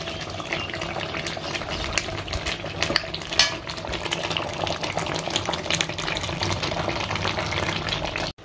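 A pot of chicken curry with papaya and potato simmering after water has been added, giving a steady loud bubbling, sizzling wash with stirring scrapes, close and continuous for the whole stretch, no voices.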